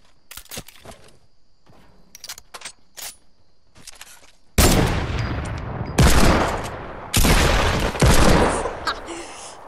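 Fortnite gunfire from a hand cannon and pump shotgun: a string of sharp, quick shots followed by four loud, heavy booming blasts with long tails, no talk.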